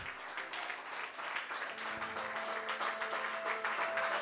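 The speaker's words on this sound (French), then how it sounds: "Acclamons puissamment le Seigneur. Plus fort que ça." A church congregation claps and cheers in acclamation of the Lord, a dense burst of applause mixed with shouts and voices, sustained and fairly loud throughout the short stretch.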